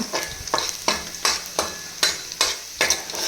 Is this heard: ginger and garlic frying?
yes